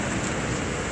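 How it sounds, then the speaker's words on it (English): Steady, hard rain falls close by as a dense, constant hiss of drops hitting surfaces, unbroken and fairly loud throughout the short moment with no voices. "Oh, it's raining?"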